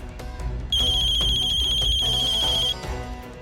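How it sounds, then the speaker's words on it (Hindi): A phone ringtone rings loud and close, a bright sustained electronic tone with a repeating pattern lasting about two seconds over faint background noise. "छोटो माँ का फोन"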